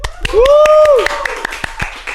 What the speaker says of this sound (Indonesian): Boleh tepuk tangan untuk Jelly?